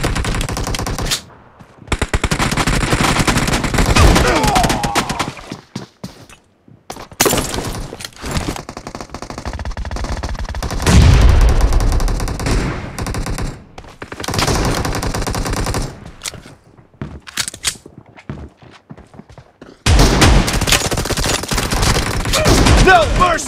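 Loud bursts of rapid gunfire in a PUBG team deathmatch shotgun-only challenge, repeated volleys separated by short silences, close and dense, with voices calling out between shots.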